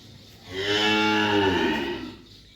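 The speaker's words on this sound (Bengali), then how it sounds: "এই হলো আমার 7 নাম্বার ফ্রিজিয়ান বকনা বাছুর" A nine-month-old Friesian heifer calf gives a single loud, close moo that swells and fades over about two seconds, with no talking around it.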